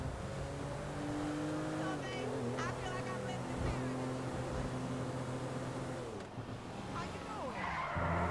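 A car drives in Grand Theft Auto V with a continuous engine drone that shifts pitch as it speeds up and slows, tire skids breaking in, while a voice talks over the driving.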